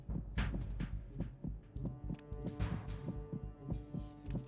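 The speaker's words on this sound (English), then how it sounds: "I didn't think that Snake's heartbeat will go crazy if somebody got closer." Snake's heartbeat from a Metal Gear stealth video game thumps in a steady, fast double-beat rhythm with a low resonant hum underneath, loud and insistent throughout, with no voices.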